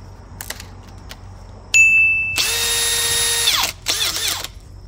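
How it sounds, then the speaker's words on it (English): A power drill with a 3/16 drill bit bores a hole in a tire, sounding as a loud, close high-pitched whine that revs up, holds for a couple of seconds, stops, then returns in a short second burst, with a few light clicks first. "3/16 drill bit."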